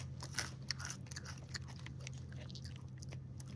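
Treetop baked crunchy dried apple chips bitten and chewed close to the mic: a few sharp crisp crunches early on, then quieter steady chewing over a low hum, with no talking.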